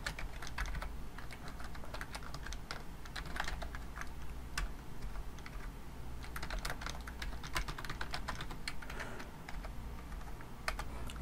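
Typing on a computer keyboard fills the whole stretch with a fast, irregular patter of light key clicks, close and fairly quiet, with no talking.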